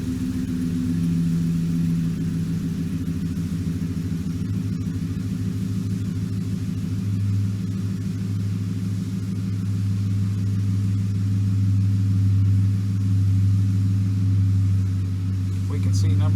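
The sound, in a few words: Ford F150 engine running with cylinder misfire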